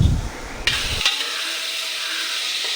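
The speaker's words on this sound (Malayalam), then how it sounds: "ഇനി നമ്മൾക്ക് ഓണിയൻ ഫ്രൈ ചെയ്തെടുക്കണം ഓയിലിൽ" Onions frying in hot oil for a home biryani: a steady, close sizzling hiss runs throughout, with a couple of brief stirring clatters near the start.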